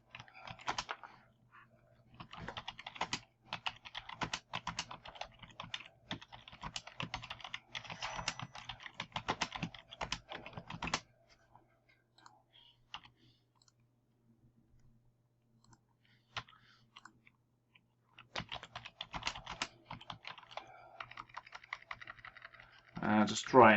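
Typing on a computer keyboard to fill in a web page's meta description, with steady clicking key bursts over about eleven seconds, a long quiet pause, then another run of typing near the end.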